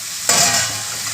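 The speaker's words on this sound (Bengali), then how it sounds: "এগুলো এর মধ্যে দিয়ে ওই 1 মিনিটের মতো কষে নেব।" Pre-fried vegetables are tossed into a hot pan with a sudden loud sizzle that settles into steady frying hiss as they are stirred and sautéed for a Barbati masala.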